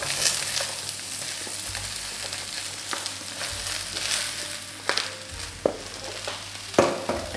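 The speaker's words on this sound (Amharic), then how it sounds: "ከዛ ይታያችኋል መጥበሻችን ሲግል እንደዚህ እንጨምራለን።" Leftover vegetables fry in a hot pan over high heat, giving a steady loud sizzle with occasional sharp pops and crackles throughout, no voices.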